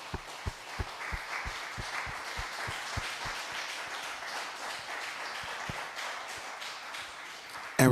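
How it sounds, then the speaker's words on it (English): Awards ceremony audience at the International Peace Festival 2023 applauding, with scattered claps and sharp rhythmic taps over a hall's background murmur, and a loud bump at the very end. "we want to give a hand of applause to the organization"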